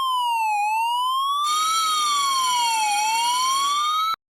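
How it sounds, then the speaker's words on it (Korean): A sprinkler system's fire alarm siren sweeps up and down, loud and electronic, and a harsh ringing main alarm bell joins partway through; both stop suddenly together. "울리고 있는 주 경종 및 사이렌 소리를 차단하여"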